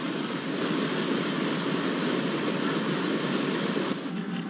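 Twin EDWDM2 diesel locomotives hauling the diverted YPR-HWH Duronto express make a steady, loud rumble with continuous wheel noise on the rails, with no voices.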